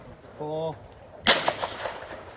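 Shotguns fire at a sporting clays course. One sharp, loud report is followed by quieter echoing cracks and distant shots, and a short tonal beep comes just before the shot.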